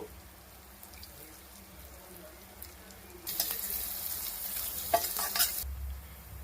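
Curry leaves and green chillies hit hot oil in a pan for a vegetarian curry, giving a loud sudden sizzle partway through that keeps crackling, after a quieter stretch of stirring.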